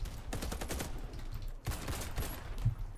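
Sustained automatic gunfire in the first-person shooter Warface, a rapid rattling burst lasting about a second and a half, a brief pause, then another long burst, loud and close.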